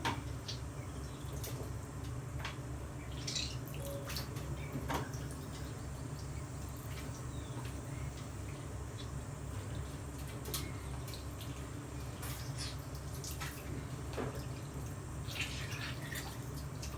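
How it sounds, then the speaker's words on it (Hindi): Water trickles and drips faintly off washed chicken pieces being squeezed by hand in a home kitchen, soft scattered drops over a low steady background hum. "धुलने के बाद में इसको निचोड़ के पानी, एक एक पीस का पानी निचोड़ के अलग रखा जा रहा है।"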